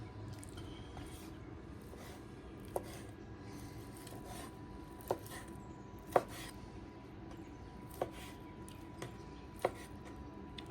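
A knife cuts smoked prime brisket into chunks, giving faint scattered soft chops and squishes over several seconds in a quiet kitchen.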